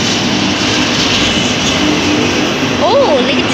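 A Norfolk Southern freight train rolls by on Union Pacific track, a steady loud rumble of rail cars with a brief horn-like tone rising near the end, heard close and continuous throughout.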